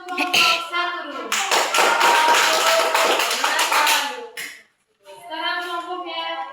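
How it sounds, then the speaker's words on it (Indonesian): A classroom of students applauds a presenting group, several seconds of dense clapping, with children's voices talking before and after. "Tepuk tangan untuk kelompok 1 dulu"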